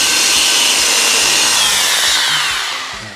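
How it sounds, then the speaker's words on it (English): A Unibit step drill bores through a hole in an unpainted aftermarket ZX6R motorcycle fairing, giving a loud, close, continuous grinding whir that fades toward the end. "let's just run the Unibit through"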